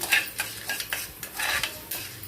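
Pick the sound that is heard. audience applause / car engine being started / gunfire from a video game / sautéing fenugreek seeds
sautéing fenugreek seeds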